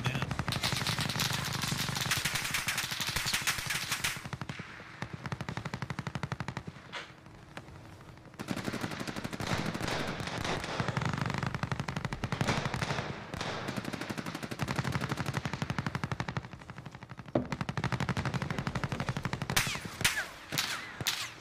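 AK rifle gunfire in the video game Call of Duty Warzone: loud, rapid automatic bursts fire in long rattling strings, broken by brief pauses and shorter sputters near the end.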